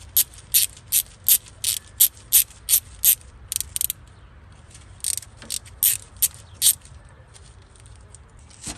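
Ratchet wrench turning a bolt on a Ford 2.3 engine during timing belt work, crisp clicking ratchet strokes in quick regular bursts, close up with pauses between sets.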